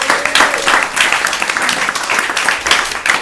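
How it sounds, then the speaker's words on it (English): An audience applauds steadily, a dense patter of many hands clapping at moderate volume for a few seconds. "please give a big round of applause"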